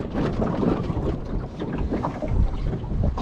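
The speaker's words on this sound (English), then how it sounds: "We are sailing, and we've got some wind." A sailboat under way on a reach, heard as steady roaring wind buffeting the microphone over rushing water, loud and continuous throughout.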